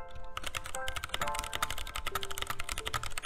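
Rapid, steady typing on a stock, out-of-the-box Keychron K6 mechanical keyboard, a dense run of close, crisp key clacks with no pauses and no talking.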